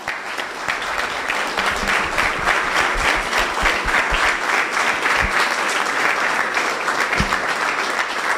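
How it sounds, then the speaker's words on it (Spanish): Sustained applause from a large audience closing a participation forum, steady and loud throughout, with no speech over it. "Vamos a darles un gran aplauso."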